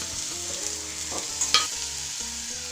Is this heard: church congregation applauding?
no